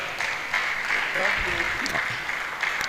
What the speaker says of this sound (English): ladies and gentlemen, one more time, let's clap for him